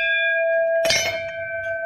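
A temple bell at the Madan Kamdev archaeological site rings once with a clear struck onset, then a steady metallic tone that sustains and hangs through the rest of the moment, close and fairly loud.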